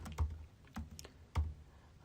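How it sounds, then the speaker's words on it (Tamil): A few sparse taps on a computer keyboard, close and quiet, three or four distinct keystrokes spread over two seconds with no talking. "இங்கே அப்படி டைப் பண்ணலாம்"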